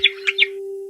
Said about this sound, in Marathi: एक सुंदर पिवळा पक्षी झाडावर बसून गातोय